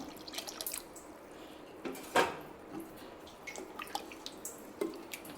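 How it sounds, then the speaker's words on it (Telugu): Tamarind extract is poured into mashed toor dal for a Telangana-style pappu charu, making quiet drips and small splashes with light clinks of a utensil. "చింతపండు రసం అయితే యాడ్ చేసేసుకుందాం"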